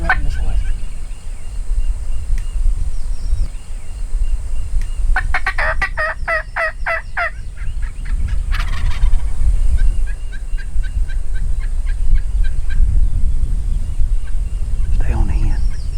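Wild turkeys gobbling in Texas hill country, several loud rattling gobble bursts near and far over a steady outdoor background, with quiet voices talking between calls.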